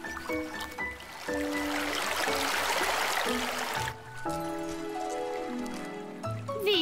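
Water flows in a cartoon stream, a rushing, trickling wash that rises strongest for a few seconds and then fades beneath bright, tonal cartoon music playing throughout.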